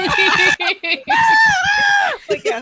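A person imitating a character's full-on scream, a loud, strained high-pitched vocal wail held for about a second and a half between bursts of excited talk.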